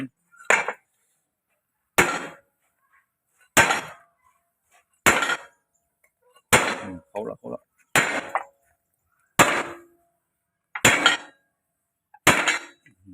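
A hammer strikes a metal chain pin about nine times, each a sharp ringing clang spaced roughly every second and a half with short buzzing rattles in between, close and loud, while someone speaks briefly.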